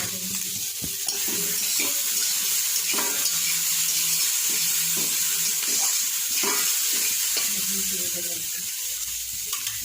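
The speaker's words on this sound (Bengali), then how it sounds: "ভাজা হয়ে গেল" Chowmein fries in a pan at home, a steady loud sizzle broken by repeated clinks and scrapes of a spatula stirring the noodles.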